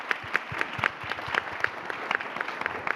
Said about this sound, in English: Let's have a round of applause for Delia for organizing this.